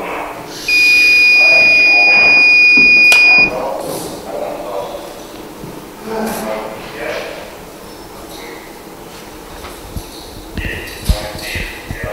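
Roadside police breathalyzer test after a drunk-driving crash in Izhevsk: the device emits a loud, steady electronic tone for about three seconds while someone exhales into the tube, followed by people talking amid street noise.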